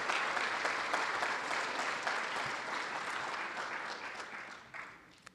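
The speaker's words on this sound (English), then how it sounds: "Please give the Gold family one more round of applause." An audience gives a sustained round of applause at a legal-profession ethics presentation, dense steady clapping that slowly thins and fades toward the end, with no talking over it.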